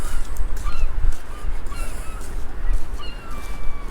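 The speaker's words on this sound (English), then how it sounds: "Flying rats are pigeons, those are seagulls." Seagulls call repeatedly at Blackpool seafront, with several overlapping squawks and cries at middling distance over a constant low rumble of wind and traffic.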